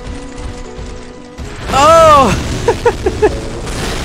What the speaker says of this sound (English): It was such a big explosion.